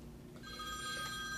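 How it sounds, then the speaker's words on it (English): A telephone rings continuously in a room during a wine tasting, its steady bright tone holding throughout at moderate loudness with no talking. "forgot to turn off the phone."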